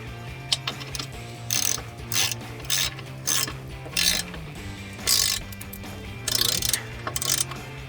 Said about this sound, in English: I'm going to tighten down all my bolts for the actual board itself.